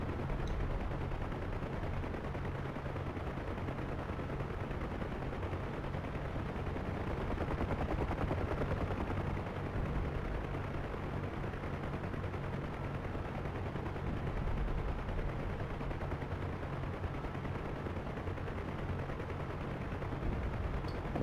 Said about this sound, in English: Rockets first, then guns.